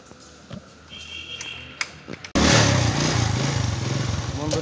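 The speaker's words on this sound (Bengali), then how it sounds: "বন্ধুরা মোটর বাইকে বসে গেলাম।" Motorbike ridden at night in Sreemangal, starting after a quiet, noisy stretch with a few knocks, then the engine roars in suddenly, loud and close, with a steady throbbing drone that continues to the end.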